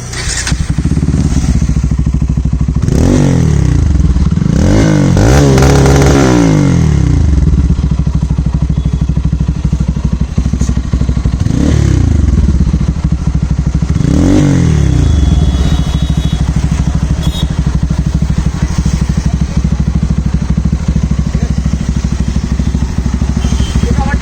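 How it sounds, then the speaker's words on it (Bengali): A modified Bajaj Pulsar N250 motorcycle revs loud and close, its exhaust note rising in several sharp blips over a steady idle rumble that continues throughout. "তো বাইকটির একটু এক্সস্ট নোট আপনাদের শোনাবো"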